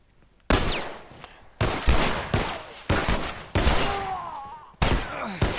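Gunfire in the video game The Last of Us, a series of loud, sharp shots in irregular bursts with ringing tails, some overlapping, and faint game sounds between them.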